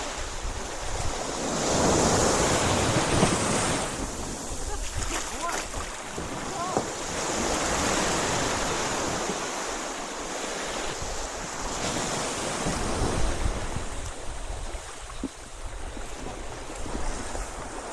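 Surf rolls onto a soft-sand beach in the Berry Islands, Bahamas, where a dinghy is pulled up: waves swell and recede in a steady wash with gusty wind noise, and people talk at times.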